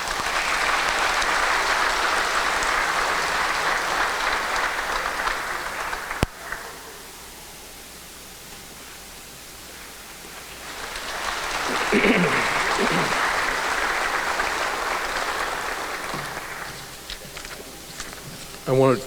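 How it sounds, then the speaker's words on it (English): An audience at an evening community honors ceremony claps for an honoree in two loud, sustained waves of applause, the first fading after several seconds and the second swelling again before dying away. "Let's give her a round of applause."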